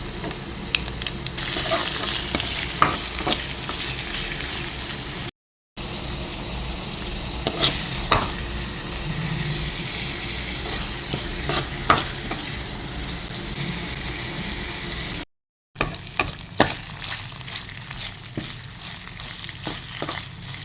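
Chicken pieces sizzle steadily in a hot pan for chicken liver fry, a continuous crackling hiss with occasional stirring scrapes, close and fairly loud, interrupted by two short gaps of silence.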